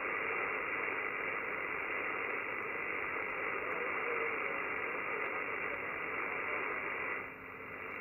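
Steady, faint radio static hisses from an ICOM IC-705 transceiver on an AL-705 magnetic loop antenna as the loop is tuned, holding even throughout before dipping slightly near the end.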